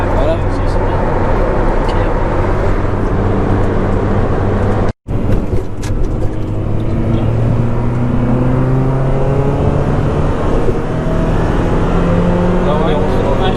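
A Honda Prelude engine revs loud and close as it climbs into VTEC, a sustained rising drone broken by one brief cut, with people talking over it.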